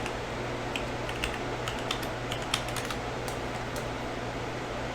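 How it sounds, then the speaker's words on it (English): A password is typed on a computer keyboard in quick, irregular bursts of light clicks over a steady fan hum, close and fairly quiet with no talk. "It also helps if you type the password in the right way."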